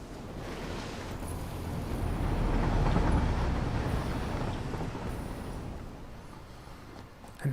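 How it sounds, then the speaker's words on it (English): A train in the Satisfactory video game rumbles past, a broad steady roar that swells to a peak midway and slowly fades, with no talking over it. "And there goes the train that's on the way back there."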